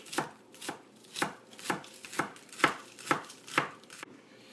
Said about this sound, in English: We're just gonna chop them up just like this.